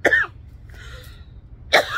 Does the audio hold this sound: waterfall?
no